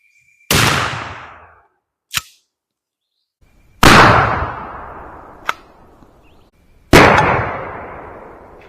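A 12 gauge shotgun fires vintage Remington Express 2.75-inch shells loaded with No. 7.5 shot outdoors: three loud, booming blasts, each with a short metallic clack from the action between shots.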